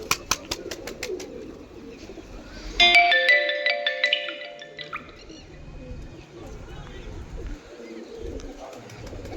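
Malwai pigeons cooing nearby, a low soft burbling coo under some clattering and faint background talk, with a brief electronic ringing tone partway through.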